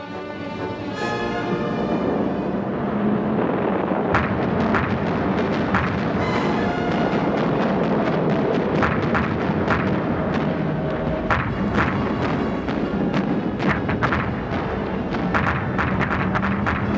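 Anti-aircraft guns fire at night during a World War 2 air raid over Germany, a dense, continuous barrage of sharp bursts and booming reports layered over a steady rumble, with no voices.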